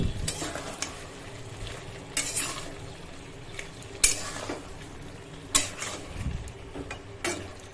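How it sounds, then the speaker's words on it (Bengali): Paneer frying in a pan and being stirred, a low continuous sizzle punctuated by several sharp spatula knocks and scrapes on the pan at irregular intervals, close up, no voices. "পনিরটা মোটামুটি হয়েই এসছে, একটু নাড়িয়ে চাড়িয়ে দিই।"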